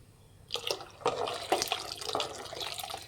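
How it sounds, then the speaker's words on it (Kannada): Water poured into a thick lentil saaru made with avarebele in a pot, with a few close splashy pours and trickles over about three seconds, quiet and free of talk. "ನಾನು ಇನ್ನೂ ಒಂದು ಸ್ವಲ್ಪ ನೀರು ಹಾಕ್ತಾಯಿದ್ದೀನಿ"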